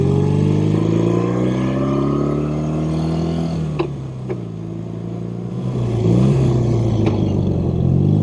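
A BMW R75/5 motorcycle engine hums steadily while riding, a smooth continuous drone that swells slightly near the end, with no talk over it.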